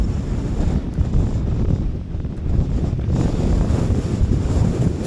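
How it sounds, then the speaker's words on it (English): Strong wind buffets the microphone in a constant low roar on a cold Lake District fell near the summit, gusting steadily throughout with no voices. "it's getting really windy now"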